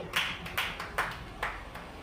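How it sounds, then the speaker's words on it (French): A church congregation applauding, with a few distinct bursts of clapping that rise and fade in quick succession, moderately loud and close, with no talk over them. "Applaudissez encore pour la gloire de notre Dieu."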